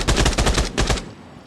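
Rapid semi-automatic gunfire from an accurate, low-recoil rifle in the shooter game Arena Breakout Infinite, a loud quick burst of about ten shots followed by a fading tail.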